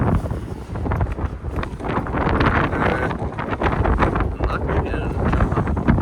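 Strong gusting wind buffets the microphone outdoors beside a 2020 Honda Civic LX sedan at a dealership, a loud continuous rumble throughout with faint indistinct voices beneath.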